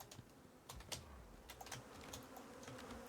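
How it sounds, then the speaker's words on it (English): Bees buzzing in the survival video game Icarus, a faint, sparse insect drone heard alone with scattered clicks and taps over quiet background. "I know, the bees are that annoying."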